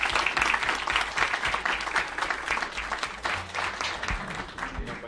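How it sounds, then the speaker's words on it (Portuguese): Sustained audience applause in a public hearing room, dense clapping from many people filling five seconds and tapering slightly toward the end, with faint murmur underneath. "representado nas palmas que vocês vão receber de todos que estão aqui"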